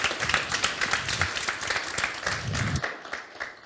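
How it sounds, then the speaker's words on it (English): An audience applauds a speaker named Dmitry at the close of a corporate talk: dense, fairly loud clapping for nearly three seconds that then drops away abruptly into a quieter tail. "Okay, then a round of applause for Dmitry."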